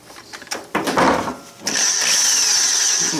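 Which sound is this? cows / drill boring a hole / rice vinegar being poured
drill boring a hole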